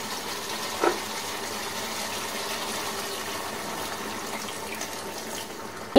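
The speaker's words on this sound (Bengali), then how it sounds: "এবারে দেব আমি সামান্য পরিমাণ জল।" A small amount of water pours into chicken cooking in a pan, giving a faint, steady gushing hiss that runs evenly for several seconds, with no talk.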